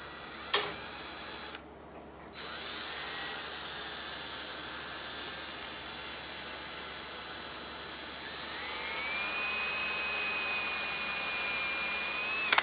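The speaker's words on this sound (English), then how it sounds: "So now I'm going to drill a hole right in the center so that it can actually go onto the throttle." A drill bores a hole into a throttle part for a John Deere 317 tractor, a steady high whine after a click and short pause, rising in pitch and loudness near the end.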